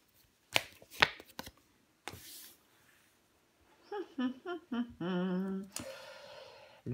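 Tarot cards handled and laid down on a table during a reading: a few sharp taps and slaps, followed by soft rustling and sliding while a voice talks quietly over them.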